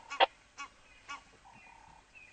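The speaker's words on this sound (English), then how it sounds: "Geese are still complaining." Geese honk in short, separate bursts, a few loud calls spaced out, with softer distant honks trailing after.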